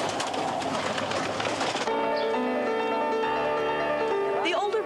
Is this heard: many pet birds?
yes